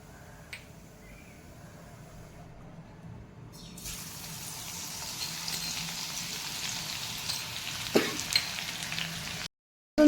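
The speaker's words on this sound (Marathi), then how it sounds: "तेल गरम झालं की यामध्ये मी आपण टेचून घेतलेला लसूण टाकून घेणार" Crushed garlic drops into hot oil for a dried bombil curry, starting quiet and rising into a steady, moderate sizzle after a few seconds, with a brief clatter near the end.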